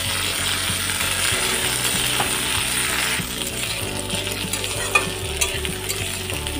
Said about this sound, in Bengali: মশলা নেড়ে নেব।